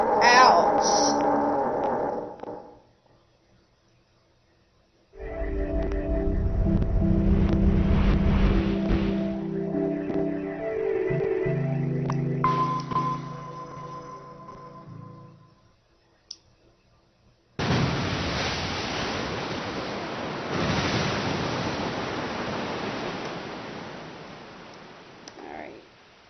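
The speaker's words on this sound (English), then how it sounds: "Accompanied by a wall of angry water, Junpei shot out of the room and into the opposing wall." A wall of rushing flood water in the video game 999 surges in as a loud, broad, sustained roar during the last third, after stretches of game sounds and music mixed with talking.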